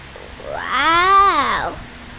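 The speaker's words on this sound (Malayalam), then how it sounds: "ഏ പൂച്ചയല്ലേ" A cat in Minecraft gives one drawn-out meow that rises and falls, fairly close and clear, over a low background murmur.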